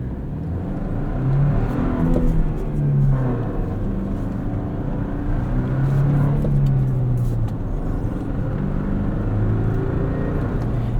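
A 2024 Toyota Tacoma with the 6-speed manual, heard from inside while driving: a steady, fairly loud engine drone that rises and falls in pitch as the revs change, alone without talk.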